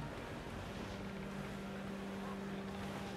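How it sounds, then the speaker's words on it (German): A gust of wind rushes at sea in the pirate game Assassin's Creed 4: Black Flag, a steady dense roar with a low engine-like drone and tonal hum, with no voices. "Oh, wir sind gerade in so einer Windböe."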